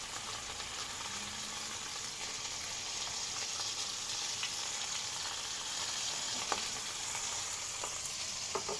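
A5 Japanese wagyu steak searing salt side down in its own rendered fat, a steady close sizzle and crackle with a few small pops, no voices.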